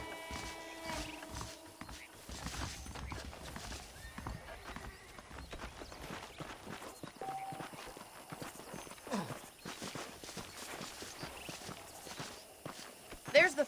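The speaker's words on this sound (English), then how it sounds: "The horses are saddled up over here." Saddled horses walk through a Red Dead Redemption town, their hooves clip-clopping in a steady, quiet rhythm under ongoing character dialogue, with occasional snorts and ambient game sounds.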